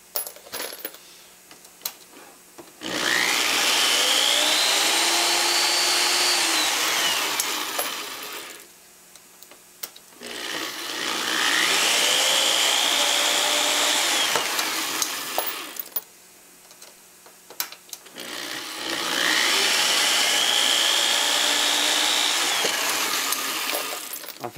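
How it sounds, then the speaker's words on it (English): A power tool deburring trimmed 5.56/.223 brass cases, running in three separate bursts of about six seconds each. Each burst brings a loud, bright whir and metallic grinding that rises and then falls, with brief quiet clinks and handling in the gaps between them. "And of course it'll have to be deburred."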